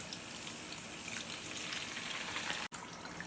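Ghee simmers in a pan on a gas stove the traditional way, giving a steady, soft, even crackle that is close by and continuous, with one brief dropout near the end.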